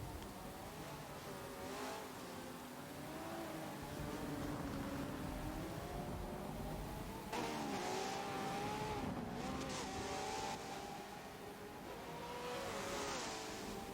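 Hypercars racing on a wet Silverstone circuit in a racing video game, a continuous engine whine rising and falling through gear changes and braking, fairly quiet and steady over the whole stretch.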